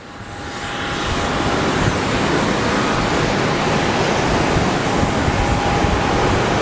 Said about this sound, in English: We have our air shuttle 2285 coming in from Boise, and it is in the Heritage Retro livery.